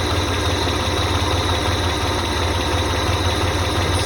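A 1985 Ford Ranger engine, just rebuilt after a tear-down, idles loudly and steadily at close range with a constant low rumble and slight vibration.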